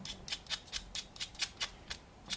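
A pencil is sharpened with a razor blade in about ten quick, evenly spaced scraping strokes, crisp and close but quiet, with no voices.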